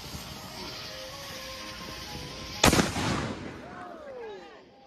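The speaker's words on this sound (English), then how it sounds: "I hope you all enjoyed the fireworks show" Fireworks at a Fourth of July show: a single sharp, loud bang bursts out over a steady background hiss and faint whistling tones, then trails off into quieter crackle.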